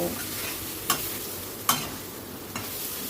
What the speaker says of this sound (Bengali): ভেজে রাখা গাঁটি কুচুর টুকরোগুলোকে আমি দিয়ে দিয়েছি, দিয়ে মশলার সঙ্গে ভালো করে কষিয়ে নেব